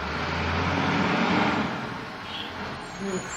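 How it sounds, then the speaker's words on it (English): A big truck drives by outside, a broad rumbling roar that swells and then slowly fades over a few seconds, heard from indoors with faint voices nearby. "You guys can probably hear the big truck"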